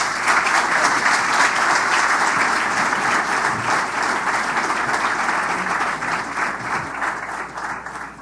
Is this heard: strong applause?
yes